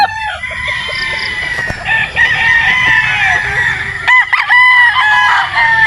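A rooster crows loudly and close, with another crow following, over a busy background of other fowl at a gamefowl farm.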